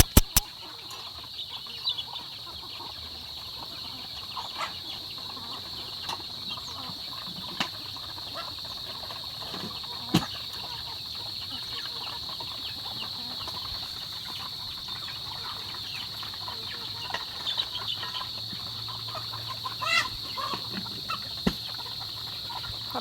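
Chickens and small chicks in a coop cluck and peep faintly, scattered calls over a steady high insect-like hiss and background noise, distant and low in level throughout.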